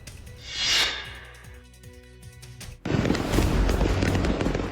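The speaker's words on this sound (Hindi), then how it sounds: "यहाँ पे एक गोदाम में आतिशबाजी के लिए लाए गए पटाखों में आग लग गई" Firecrackers bursting in a warehouse fire in California, a few sharp pops followed by a loud, dense roar of crackling blasts that continues to the end.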